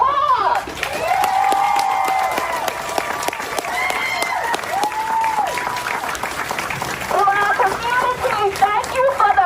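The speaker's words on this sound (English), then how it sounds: "Let's give them an applause." Crowd at a community gathering in Portland applauding and cheering, loud clapping with whoops and shouts over it and voices speaking through the noise.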